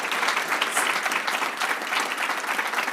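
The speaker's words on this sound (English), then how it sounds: "Can we have a round of applause for this?" Audience at a fireside chat event breaking into a round of applause, a steady, moderately loud patter of many hands clapping throughout.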